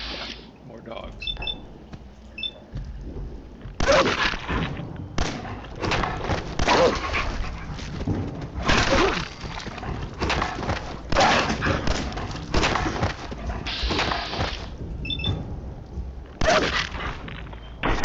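Hostile dogs in Fallout 4 bark and snarl in repeated loud bursts while attacking, mixed with game effects and combat noise over about eighteen seconds.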